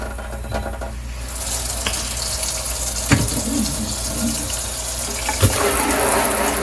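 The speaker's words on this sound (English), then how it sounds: "wash the leaves" Steady stream of water running over the leaves of a Monstera adansonii houseplant being washed down, a loud continuous splashing rush that holds throughout with a couple of sharper spatters.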